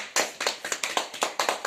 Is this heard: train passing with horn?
no